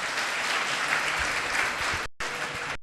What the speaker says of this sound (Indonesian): Tepuk tangan untuk Banyuwangi.